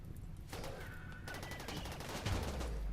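Turrets firing in the video game Rimworld, a dense, continuous rattle of rapid gunfire with overlapping bursts and a heavier impact toward the end, moderately quiet overall.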